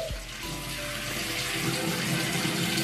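A bathroom tap runs steadily at the sink while someone brushes their teeth, a continuous close hiss of flowing water that stays even and unbroken throughout.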